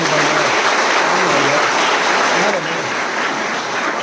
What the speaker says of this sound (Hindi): मैं एक जो जोरदार ताली चाहते हैं कि इन दंपति के लिए भी बजाए।